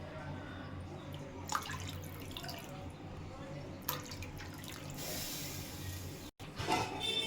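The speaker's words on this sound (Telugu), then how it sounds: "ఇప్పుడు దీంట్లోనే మనం వాటర్ వేస్తున్నామండి" Water poured into a pan for tomato bath upma, three cups of water to one cup of semolina, running as a steady close splashing stream with a few knocks of the pan partway through.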